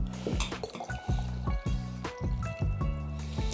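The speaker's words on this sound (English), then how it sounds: "So let me pull back this hot water." Hot water is poured off in a series of sloshing, splashing bursts and drips, irregular gurgles repeating every half second or so, close and moderately loud, with no talking.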